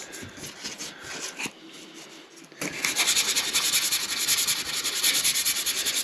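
Rough scratchy sanding on hardened epoxy, brief strokes at first, then a brief pause before sustained rapid back-and-forth rasping grows louder and denser.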